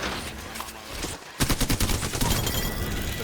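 A dense spray of rapid gunfire crackles continuously, with a burst of sharper, closely spaced shots joining in and carrying to the end.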